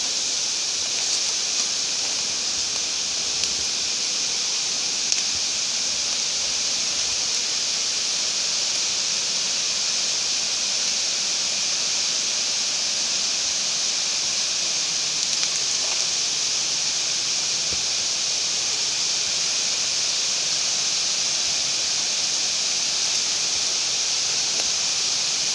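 A waterfall at Pangka roars in a continuous, steady broadband rush of falling water, loud and unchanging throughout with no voices present.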